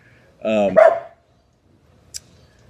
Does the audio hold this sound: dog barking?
yes